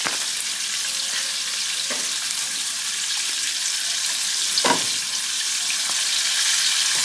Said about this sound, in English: I'm gonna take my pound of ground beef and I'm gonna start to brown my meat.